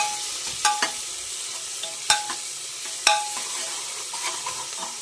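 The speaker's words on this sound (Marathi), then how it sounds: "आपण कांदा टॅमॅटो मिरची कटिंग केलेला तर मस्तपैकी शिजवून देऊ" Chopped onion, tomato and chili fry in a pan with a bay leaf, a continuous sizzle broken by sharp spatula knocks and scrapes against the pan at irregular moments.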